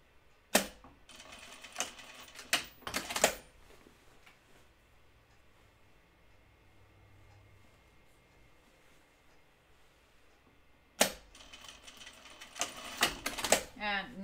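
A sewing machine backstitches a shoulder seam on a Deer and Doe Bleuet dress: two bursts of rapid, close mechanical stitching chatter separated by a long quiet pause.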